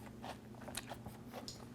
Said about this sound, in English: Oh my gosh, and it's crunchy and tastes great.